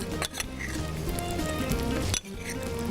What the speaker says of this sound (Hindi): अब मैं इसमें डाल रही हूँ ये पक्का हुआ गोश्त, पिसा हुआ अदरक और लहसुन है